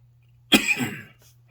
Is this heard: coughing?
yes